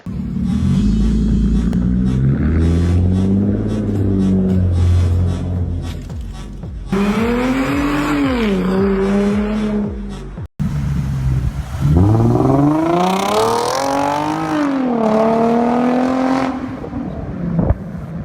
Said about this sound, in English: here are those exhaust clips